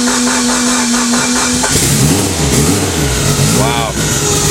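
An Evo 8 with a freshly built motor starts and revs on a dyno, cranking then catching into loud, rising and falling revs, with someone talking over it.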